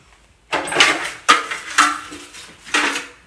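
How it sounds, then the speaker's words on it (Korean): Dishes and cutlery clatter in a few sharp bursts while being washed, close and loud clinks and scrapes separated by brief pauses. "설거지."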